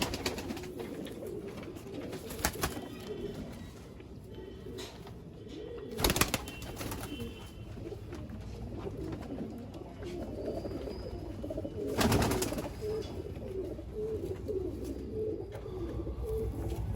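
Pigeons coo softly and steadily in a loft in Jammu, a low murmuring chorus with a few brief bursts of wing flapping or rustling.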